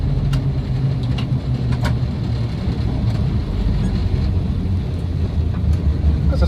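A 1962 Land Rover Series IIa 88in soft top with a 2.25 petrol engine idles steadily, a close, continuous low rumble with a faint higher whine and no speech over it.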